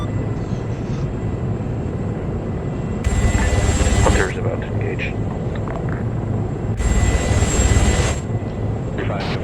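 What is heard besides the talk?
Apache helicopter in a video game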